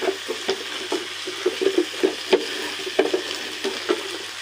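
Spice paste of ginger-garlic, turmeric and salt cooks in a pan, with a low sizzle beneath repeated clinking and scraping stir strokes of a spatula at an irregular rhythm, close by.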